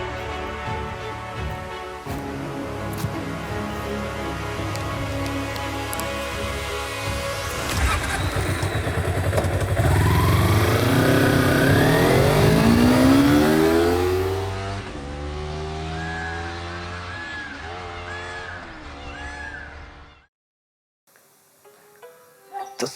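Kawasaki Ninja 250R motorcycle engine revving hard, rising and falling howls of throttle climbing through the revs, loud and close, then easing off before cutting to near silence near the end.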